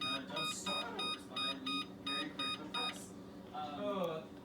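A kitchen oven signals that it has finished preheating to 425 degrees with a series of short electronic beeps in regular pairs, sounding over faint background noise and some quiet movement.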